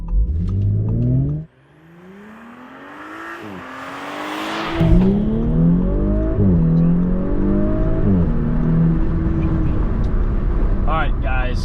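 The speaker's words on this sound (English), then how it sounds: "The first launch we're gonna do is sport mode, not launched, on a roll." An Audi B9 S4 accelerating hard in sport mode from a rolling start, engine note climbing through several gears with brief dips at each shift, loud and close, with a voice briefly heard over it.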